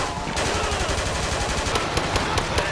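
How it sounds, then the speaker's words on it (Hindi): Rapid automatic gunfire from realistic modded weapon sounds in GTA 5, a loud, continuous stream of close shots rattling without a pause. "बिल्कुल रियलिस्टिक गन साउंड्स डाल दिया एक अलग मॉड से"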